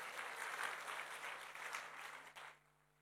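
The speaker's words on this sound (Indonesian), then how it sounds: "berikan tepuk tangan yang meriah" Enthusiastic applause from a church congregation at an Indonesian Bethel church service, a dense steady clapping that carries loudly for over two seconds before cutting off abruptly into near silence.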